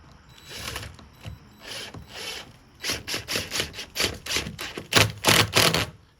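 Screw driven into a wooden porch post, a series of buzzing bursts from the driver with grinding wood texture, growing louder and more insistent toward the end.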